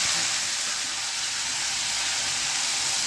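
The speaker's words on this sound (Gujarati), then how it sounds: "મેથીનો વઘાર તમે જોજો કેવો આવે." Fenugreek seeds sizzle steadily in hot oil for tempering a bottle gourd curry, a dense continuous frying hiss up close with no voices.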